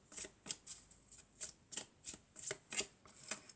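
Oracle cards are drawn and handled in a steady run of about eleven crisp, close snapping flicks, each a bright papery slap spaced roughly every third of a second, with no speech.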